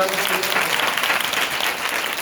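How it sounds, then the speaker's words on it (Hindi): A church congregation claps for the Lord during a Hindi sermon, a dense, steady roar of many hands that fills the whole stretch from start to finish, loud and close. "ताली बजा के प्रभु को"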